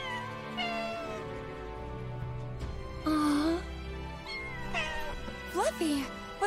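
Fluffy the cat in Final Fantasy VII Rebirth meows several times, with short, weak, rising and falling cries heard close over soft game music, while voices talk throughout.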